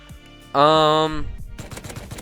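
A Tommy gun fires in the Rust video game: a short rapid burst of light, evenly spaced pops that follows a brief sustained tonal hum.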